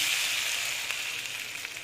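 Water poured into a hot pan of sweet raw mango chutney seasoned with salt sets off a steady, bright sizzling hiss that holds evenly and fades slightly toward the end.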